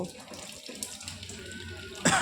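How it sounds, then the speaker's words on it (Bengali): A lid washed under running tap water in a home kitchen, heard as a steady close hiss of flowing water that surges louder at the end. "ঢাকনাটা ধুয়ে নিলাম।"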